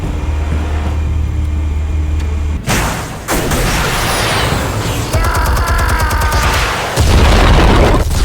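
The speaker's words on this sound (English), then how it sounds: "Explosives armed. Fire when ready." Explosives detonate in the Batman: Realm of Shadows video game as loud, booming blasts with rumbling debris and rattling bursts over a steady game soundtrack.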